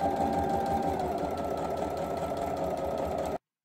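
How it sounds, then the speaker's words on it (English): Serger and sewing machine stitching cosplay pants, a fast continuous mechanical whirring and rattling hum that runs steadily for a few seconds and then cuts off abruptly, close and alone. "And there was serging and stitching."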